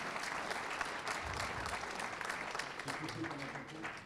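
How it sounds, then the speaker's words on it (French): Sustained applause from a business conference audience, steady and fairly distant, filling the whole stretch with dense clapping and faint murmuring beneath. "Je crois qu'on peut vous applaudir très chaleureusement."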